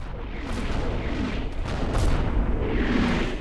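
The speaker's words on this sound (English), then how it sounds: "Alright, there's the artillery. It's coming in." Artillery barrage in Combat Mission Normandy, a WWII Normandy battle game, rumbling as dense, continuous booms and distant blasts layered over a steady low battlefield roar, with no talking.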